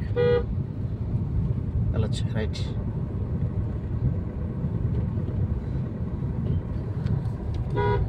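A Maruti S-Cross car horn toots in short bursts, near the start, middle and end, over a rumbling vehicle interior while someone speaks briefly.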